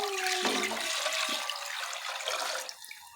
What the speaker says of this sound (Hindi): अब हम ये दूध डालेंगे 1 किलो।